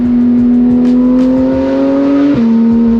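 A sports car engine pulls hard through a canyon with the windows down, a loud steady drone rising slowly in pitch, then a sudden drop as the gear shifts and the note settles lower.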